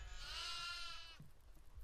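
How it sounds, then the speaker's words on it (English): A goat bleats loudly and close in the horror video game Devour, one drawn-out wavering cry followed by quieter low background noise. "Oh, I heard a lot of goats."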